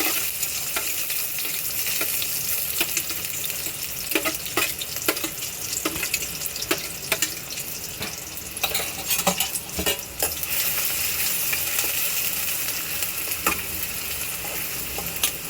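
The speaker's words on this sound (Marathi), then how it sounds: "कांदा थोडासा ब्राऊन होईपर्यंत तो परतून घेऊया" Onion frying in hot oil for a Konkani mackerel curry, with a constant loud sizzle and repeated spatula clinks and scrapes as it is stirred, close up with no talking.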